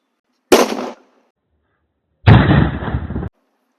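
Sutli bomb firecracker wrapped in rubber bands bursting outdoors: two sharp, loud blasts with a silent gap between, the second longer and heavier.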